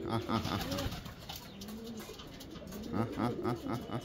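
A pigeon that has just landed coos in repeated soft, throaty rolls, close and clear, while a person talks over parts of it.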